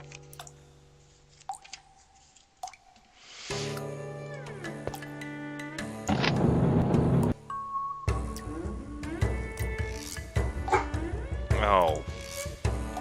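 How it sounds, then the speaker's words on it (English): A dog barks and whimpers in the PC game Tales: short yips and whines amid clicking game effects and musical tones, fairly close and intermittent over a busy, shifting background. "Of course the dog has to be upset about something."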